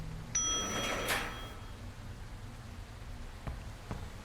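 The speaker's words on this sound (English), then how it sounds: "It is raining out. That's what you probably hear. It's storming." A rainstorm in the nuclear reactor game Nucleares, heard as a steady soft wash of rain across the whole stretch. A few brighter tones and clicks rise near the start, and two faint taps come near the end.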